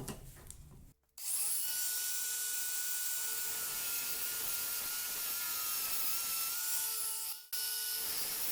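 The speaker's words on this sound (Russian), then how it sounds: "При помощи УШМ и отрезного диска начинаю пилить строго по линиям." An angle grinder with a cutting disc saws through a plastic fruit crate, giving a loud, sustained high whine that starts abruptly, runs steadily, and briefly cuts out before resuming.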